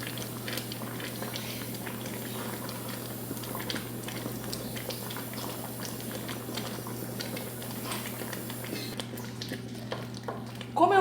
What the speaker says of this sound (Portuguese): mexendo e colocando a farinha